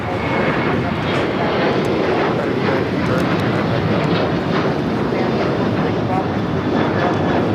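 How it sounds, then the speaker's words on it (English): A China Cargo Boeing 777 freighter touches down on the south side at LAX, a loud, continuous jet roar that fills the whole stretch without letting up. "We have a Cargo King at China Cargo 777 freighter touching down here on the south side"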